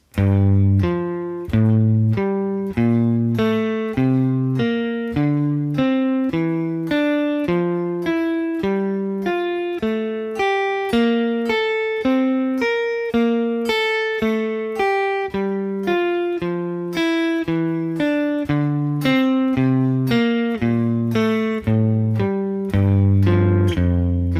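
Single guitar notes of a Dorian mode scale in sevenths leap up and down in wide paired intervals, climbing and descending steadily in an even rhythm, bright and close with no speech.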